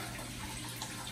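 Tap water runs steadily and close as a ball python's dirty item is rinsed out, a brief continuous splashing rush with no voices.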